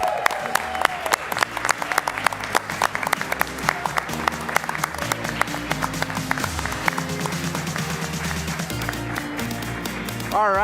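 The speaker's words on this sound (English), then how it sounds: "let's also have one more big round of applause for Chase and Michael and Jamie for their businesses" Large audience applause for young entrepreneurs at a national youth entrepreneurship challenge, a dense steady roar of clapping under loud music with a steady beat, lasting throughout.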